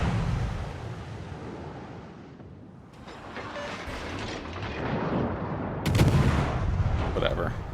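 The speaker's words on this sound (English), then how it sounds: "Benson shooting us now?" Naval gunfire from a destroyer in a naval video game: rumbling broadband salvos that rise after a lull, with a sharp heavy blast near the end over a continuous low battle roar.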